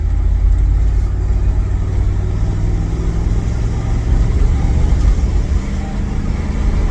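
Old truck's engine runs steadily with a low, continuous rumble and mild revving on a road drive, close and loud throughout with no talk.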